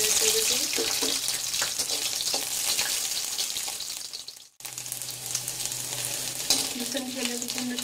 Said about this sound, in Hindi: इसमें लहसुन की कलियां ऐड कर देते